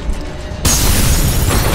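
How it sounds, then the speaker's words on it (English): A grenade explodes in the F.E.A.R. Perseus Mandate shooter, a sudden loud boom after quieter ambience that is followed by a sustained roaring rumble of debris and reverberation. "Watch out, grenade."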